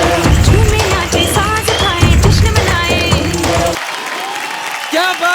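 On a televised dance show, audience applause and cheering sound loud under music and a host's voice, with the music cutting out partway while clapping and the voice continue.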